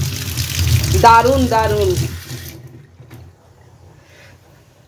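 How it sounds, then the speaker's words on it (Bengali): Water runs smoothly from a newly installed tap, a steady close rush that stops about halfway through, with a person speaking briefly over it. "এই যে কলটা কালকে লাগানো হলো, কি ভালো জল পড়ছে জানো, দেখো কি স্মুথ জল পড়ছে"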